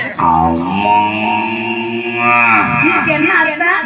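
At a Tamil village temple festival, a clown performer in a Valli wedding stage drama imitates a cow with his voice, giving a long, loud, wavering moo that rises and falls, amplified with an echoey, slightly distorted sound.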